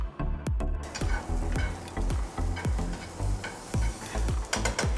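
Fennel seeds and sweet potato sizzle loudly in a pan, with frequent quick clicks of a utensil stirring and scraping throughout.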